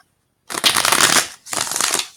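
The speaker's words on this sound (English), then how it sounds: "give it a final couple shuffles, and pull your 9-card spread using the Vision Quest Tarot" Two quick riffle shuffles of a Vision Quest Tarot deck, close and crisp bursts of flapping cards separated by a short pause, with no talking.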